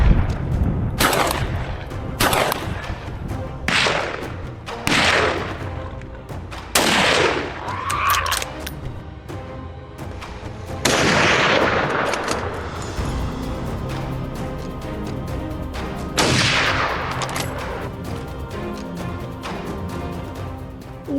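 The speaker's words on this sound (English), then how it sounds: "The farmer, who applied for a permit, used a .308 rifle to bring down wild hogs with precision." A .308 rifle fires on wild hogs: a series of sharp, loud gunshots spaced a couple of seconds apart, several in quick succession, each leaving a short ringing decay.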